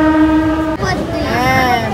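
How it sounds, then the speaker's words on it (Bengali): A passing train sounds a loud, sustained horn nearby, its steady tones shifting in pitch over two seconds beneath a person's voice. "পাশ দিয়ে একটা ট্রেন যাচ্ছে"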